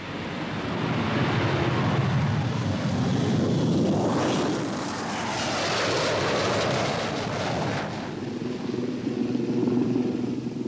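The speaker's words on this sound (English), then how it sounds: "jet roars down the runway and off in search of smugglers across the sea" Jet aircraft taking off down a runway in Belize, a loud sustained roar that swells and sweeps in pitch as it passes, then settles into a lower rumble as it climbs away.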